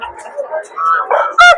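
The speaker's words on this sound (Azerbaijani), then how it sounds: "Dedim banlamırdı, ban verir" A rooster at a poultry market crows once near the end, a short harmonic call rising clearly above a busy backdrop of market chatter and other birds.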